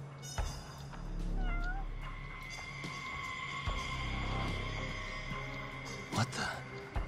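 A cat gives a couple of short rising meows amid indoor bumps and movement noises, with a steady hum in the background, fairly quiet overall.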